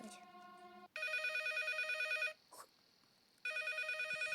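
A telephone rings in the Five Nights at Freddy's video game, with a loud electronic ringtone in repeated long bursts separated by a brief gap.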